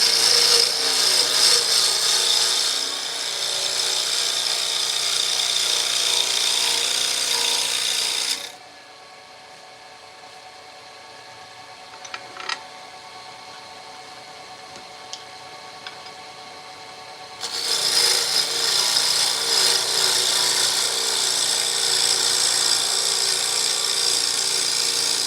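A piece of walnut spins on a wood lathe under a cutting tool, a loud rasping, scraping whir that drops away to near quiet with a few faint clicks midway, then resumes at full strength; no talking.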